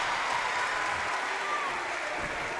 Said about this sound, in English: The crowd noise we're getting behind us